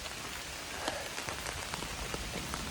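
Rain from a thunderstorm falls on a mountain trail, a steady close patter of drops hitting surfaces with scattered louder splats, with no voices.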